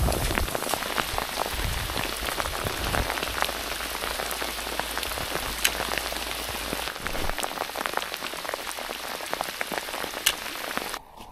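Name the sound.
heavy rain with hail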